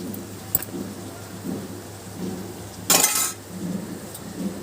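Masala paste of ginger and shallots frying in a pan, a steady low sizzle with faint clinks and one brief loud scrape or splash near the middle.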